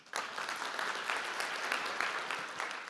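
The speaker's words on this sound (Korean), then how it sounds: "뜨거운 박수로 환영해 주십시오" Warm applause from a conference audience at a semiconductor session in Korea, a steady wash of many hands clapping at a distance, fairly soft and even throughout.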